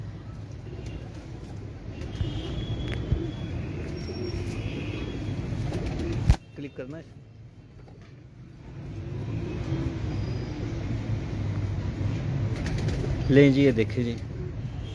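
Breeder pigeons on a rooftop coo in soft repeated bursts, with occasional wing flaps amid steady outdoor background noise and nearby people talking.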